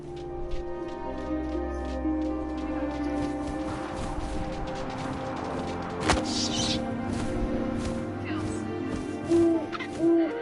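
An owl hoots in the video game What Remains of Edith Finch, a few soft calls set against a low ambient musical drone, with a sharp thud partway through and brief louder tones near the end.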